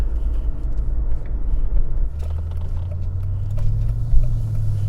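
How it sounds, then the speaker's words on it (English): A 2002 Mercedes-Benz E 55 AMG drives by with a deep, rumbling exhaust note that swells into a steady low drone partway through, heard as continuous road and engine noise from a moderate distance. "sound out of that exhaust is just perfect."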